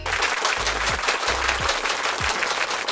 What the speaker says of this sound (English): I gotta put the hand claps up in here